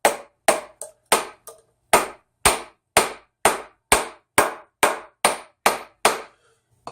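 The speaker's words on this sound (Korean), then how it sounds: "이러한 벼림 집게로 이렇게 잡아서 이렇게 단조 작업을 하는 방법도 있다" A hammer strikes a metal ring blank during jewelry forging, about fifteen sharp ringing blows in a steady rhythm roughly every half second, close and loud with no talk.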